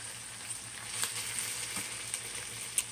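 Shrimp and vegetables sauté in a pan, a close, steady sizzle with scattered crackles and pops and a soft low hum beneath.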